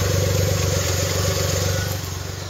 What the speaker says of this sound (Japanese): アイドリングも安定しておりますね。